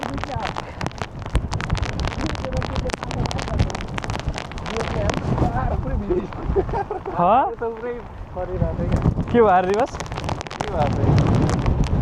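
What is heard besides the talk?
strong wind on a coastal trek during a storm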